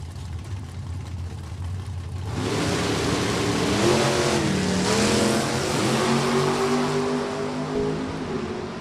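Drag racing street cars, stockers and Super Street class including a 1956 Chevrolet Bel Air, launch down the strip at Maple Grove Raceway. A quieter rumble surges into a loud, sustained engine roar that rises in pitch as the cars pull away.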